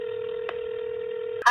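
Telephone tones on a call back to a cell phone: a steady tone held throughout with a brief interruption partway, then a louder burst at the end, heard alone without talk.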